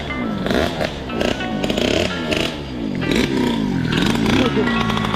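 Electric mini supermoto and a drag scooter launching side by side in a drag race, their motors whining in rising and falling pitch sweeps with rattling clatter, close by, while people talk over the runs.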